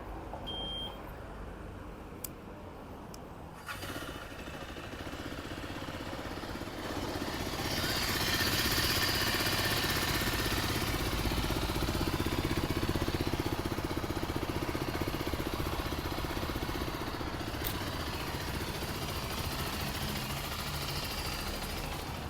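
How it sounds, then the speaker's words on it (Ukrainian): A 2024 Zontes GK350 motorcycle engine idles steadily and fairly quietly, a thin buzzy drone without bass that swells slightly louder midway and holds, with no voices. "запустити я зможу, щоб ви послухали, як працює двигун цього мотоцикла"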